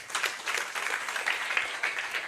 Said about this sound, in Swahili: Pigeni Yesu makofi.